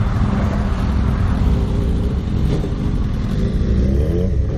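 A motorcycle engine revs and rides off, a loud, close, rough rumble that holds steady with slight rises in pitch, no voices over it.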